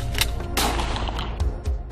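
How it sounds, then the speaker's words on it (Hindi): Gunshots ring out in a crime show reenactment, a few sharp loud bangs with rumbling echoes in quick succession. "फौरन उसने फायर कर दिया,"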